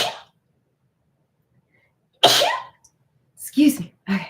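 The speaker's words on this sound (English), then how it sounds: "Shoot, I think I have to sneeze." A single sharp sneeze bursts out after a moment of quiet, followed by a few brief vocal sounds.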